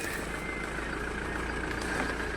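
A tempo truck engine runs at a low, steady idle. The rumble is continuous and fairly faint, heard from a modest distance with no talk over it.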